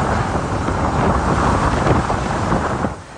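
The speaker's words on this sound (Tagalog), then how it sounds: "Ramdam sa mga bidyong kuha kahapon ang hagupit ng hangin sa Basco" Strong super typhoon wind roars and buffets continuously in Basco, Batanes, loud and gusty, with a rushing, noisy texture and no voices.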